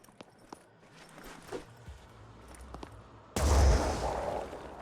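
A grenade blast in the tactical strategy game Phoenix Point bursts in loud and sudden at the end, a wide booming crash that rumbles on after faint clicks and light gunfire earlier.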